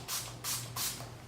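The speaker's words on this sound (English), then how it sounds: "I am going to spray my brush when I'm working with the shimmers" Three quick bursts of a spray bottle misting a makeup brush, close and hissy, each about a quarter second long with short gaps between.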